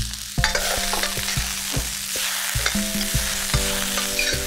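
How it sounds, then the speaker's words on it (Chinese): Pork ribs stir-fried in a wok with garlic and onion, a steady hot sizzle broken by repeated sharp scrapes and clanks of the spatula against the pan, close and busy with no talking. "翻炒一下"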